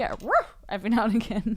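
Dog barking: a short yelping bark rises and falls near the start, then people talk over a brief mix of noise, with the dog sounding close and loud.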